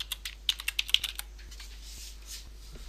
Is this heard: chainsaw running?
no